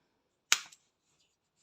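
One crisp snip of scissors cutting through the yarn ends of crocheted work, a short close click that dies away quickly in near silence.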